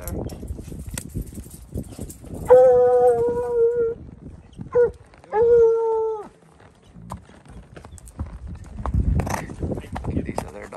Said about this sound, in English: Dogs firing on it.